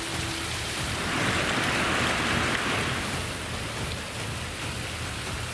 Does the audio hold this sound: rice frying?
no